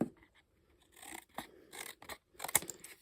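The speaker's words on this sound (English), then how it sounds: "now I'm just going to cut this a little bit smaller" Scissors snip through a paper template for a craft project, a few short crisp cuts with brief scraping of paper in between, close and fairly quiet, no talking.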